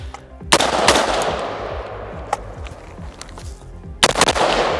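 Rifle fire from an AR15 or AK47 cracks out loud and close outdoors, with sharp shots at about 0.5, 2.3 and 4 seconds and a trailing rumble after each one.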